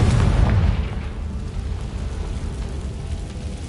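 A Confringo spell explodes in a Harry Potter video game, a loud booming blast up front that trails into a steady rumbling roar.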